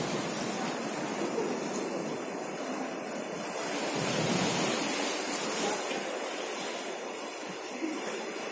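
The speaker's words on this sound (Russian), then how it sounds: "Ох, какие волны накатывают." Rough, stormy sea waves crash and roar continuously on a beach, a loud, dense wash of surf with swells rising and falling.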